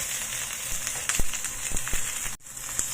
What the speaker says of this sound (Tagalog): i-fry lang natin yan hanggang sa lumabas yung aroma ng ating ingredients